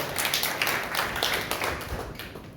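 A church congregation at a Sunday worship service claps together in a sustained, dense burst of applause that holds steady throughout, fairly loud and close, with no voices on top.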